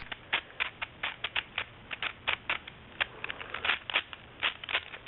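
Clicky outer layers of a V-Cube 5 twisty puzzle being turned: a rapid, uneven run of sharp plastic clicks and snaps, close and fairly quiet, with no talking.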